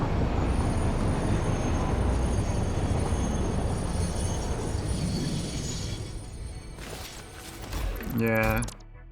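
Train running in the factory-building video game Satisfactory, a loud steady rumble of wheels and carriages that fades out, followed by a brief rising mechanical tone near the end.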